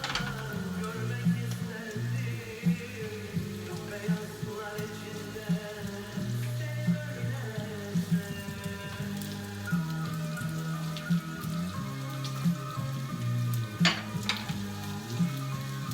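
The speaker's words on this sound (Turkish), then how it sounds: "Bir tarafında da köftelerim kızartacağım." Meatballs sizzle and crackle steadily in a hot pan, a soft continuous frying patter with occasional sharper pops, close by.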